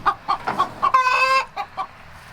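A laying hen in the coop gives a run of short rhythmic clucks that rise into a drawn-out squawk, then settle back to clucking, close and clear with no talk.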